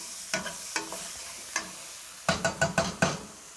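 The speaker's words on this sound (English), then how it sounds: "I'm going to stir fry this for 2 minutes until the peas are just lightly browned." Peas, scallions and thinly sliced serrano chilies are stir-fried in a pan, with a sizzling bed broken by sharp scraping strikes of the utensil, a few spaced early on and then a quick burst of four or five near the end.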